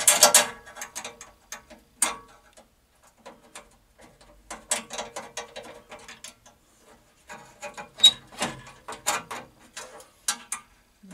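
A chassis screw on an Electrohome G07 arcade monitor is turned out with a screwdriver, giving close, sharp clicking and ratcheting bursts in irregular clusters separated by short pauses.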